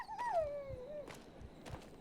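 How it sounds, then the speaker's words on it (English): A dog in Maid of Sker whimpering in pain, one close, high, drawn-out whine that slides downward over about a second, followed by faint soft yips and thumps. "I just heard the doggy get hurt."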